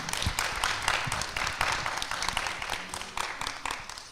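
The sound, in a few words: audience applause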